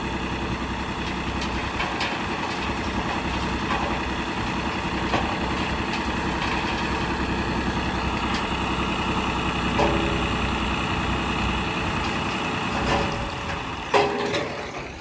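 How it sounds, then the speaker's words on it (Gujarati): A tractor engine idles nearby at a cattle farm while manure is unloaded, a steady, rumbling drone that holds constant throughout, punctuated by a few brief clanks. "એક ટ્રેક્ટર ખાલી કરી ઉઈ ગયું છે આ બીજું ટ્રેક્ટર આવ્યું છે"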